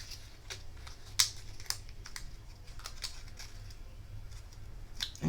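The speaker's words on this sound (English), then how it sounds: "just cut off a piece of scrap." Scissors cutting a small piece of scrap paper at close range, a series of quiet crisp snips and clicks in an irregular rhythm with soft rustling between them.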